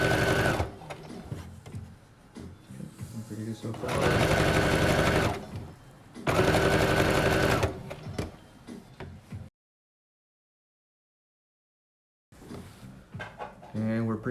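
Sewing machine stitching pant fabric near the edge, several loud bursts of rapid mechanical whirring separated by pauses and a silent gap, with a brief spoken comment in between.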